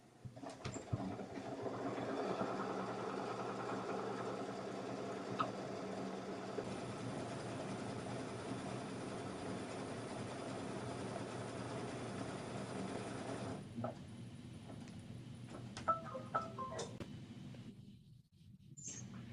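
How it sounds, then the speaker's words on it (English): An embroidery machine stitching out a design on fabric, a steady close mechanical hum with fine rapid ticking that runs continuously, quietening toward the end, with no talking. "Now we're going to take the back over to the machine and I will do the embroidery."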